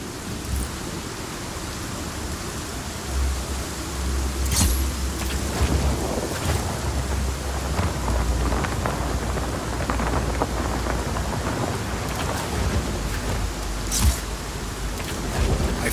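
Rain and storm ambience from the video game Just Cause 4, a steady dense hiss of rainfall with low rumbling thunder underneath and a few sharper crackles, continuous and fairly loud throughout.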